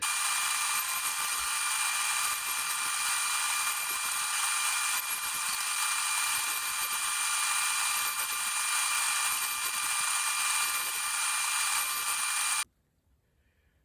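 A power saw rips plywood pieces for kitchen beams, a loud continuous high-pitched whine held steady for about twelve seconds before cutting off abruptly.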